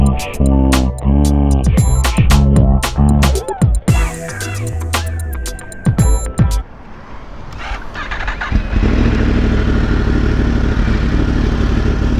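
A Yamaha R1M sport bike running on E85 fuel sputters and revs in uneven, loud bursts up close, then settles into a steadier rough running drone.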